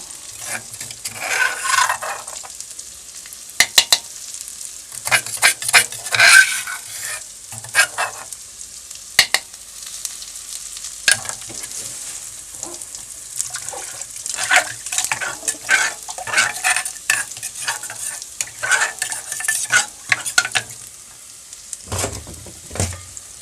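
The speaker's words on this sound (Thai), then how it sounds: "ผัดพริกกระเทียมให้หอมเลยครับ" Steady sizzling of dried chili and garlic stir-fried in a hot pan, with irregular scraping and stirring clatter throughout, no voices.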